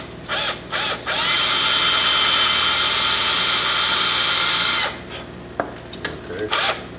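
A power drill bores into wood for a carved wooden coffee pot, whirring loud and steady for about four seconds, with brief clicks and knocks before and after.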